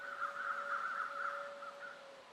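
In the video game The Long Dark, a bird calls with one long, steady, harsh cry that holds for about two seconds, moderately loud over a quiet wilderness background.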